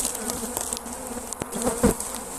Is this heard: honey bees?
yes